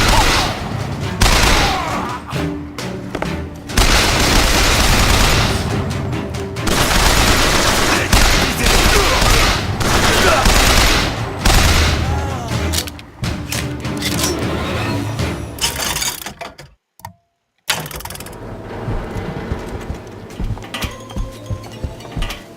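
Dense gunfire from the video game BioShock Infinite sounds as loud rapid volleys and bursts with metallic clinks, broken by a brief silent gap before the shooting resumes.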